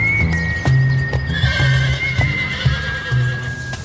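Thoroughbred horses at the Keeneland auction house in Kentucky: a loud, close whinny rings out over a steady run of clip-clopping hooves on a hard surface.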